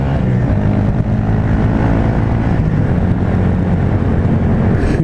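Honda MSX 125 small motorcycle riding, steady loud engine drone with low rumbling harmonics and wind noise, continuous for the whole stretch without any speech.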